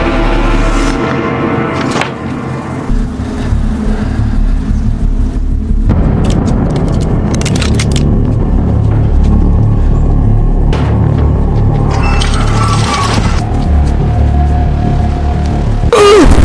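An explosion set off in a TV drama scene produces a heavy, loud rumbling blast that builds and rolls on amid mixed dramatic effects and crackling debris.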